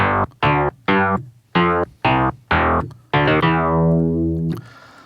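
Studiologic Sledge synthesizer patch with phaser modulation at rate 20 and depth 50, playing a loud, bright sequence of short stabbed notes followed by one long held note that slowly sweeps and fades, with no voice.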